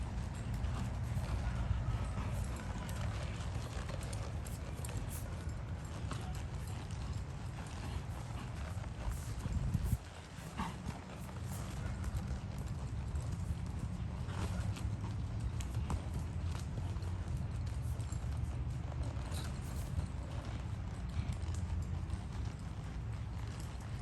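Steady clip-clop of horse hooves continues for a long stretch, rhythmic and moderately near over low rumbling background noise, with a brief dip midway.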